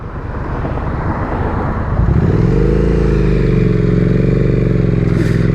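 A 2018 Triumph Street Twin motorcycle engine revs up loudly after the clutch is let out, its close, steady drone thickening and climbing in pitch as the bike pulls away.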